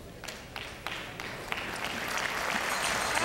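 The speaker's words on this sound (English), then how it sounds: "They've applauded both skips, all the skips." Spectators at a women's curling skins game applaud the skips, clapping that starts as scattered claps and swells into steady, growing applause from a moderately distant crowd.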